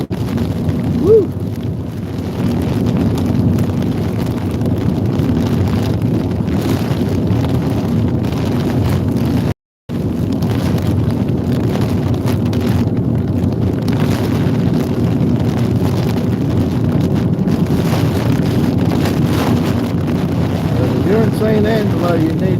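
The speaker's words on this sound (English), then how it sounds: "We still got some wind coming across left to right of the screen." Strong wind during a storm chase in Central West Texas, a continuous heavy roar buffeting the microphone with one brief dropout, while someone talks over it.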